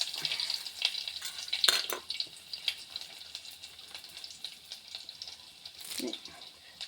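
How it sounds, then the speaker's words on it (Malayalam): Chopped onions frying in a pan make a close sizzle, loudest at first, with scattered stirring scrapes that thin out over the following seconds. "ഇനി നമുക്ക് ഉള്ളി അരിഞ്ഞൊക്കെ കൊടുക്കാം."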